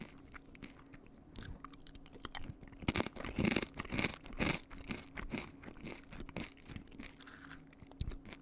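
Someone chews and crunches a Lunchly snack close to the mic, with irregular bursts of crisp bites and wet mastication that repeat steadily throughout and no talking.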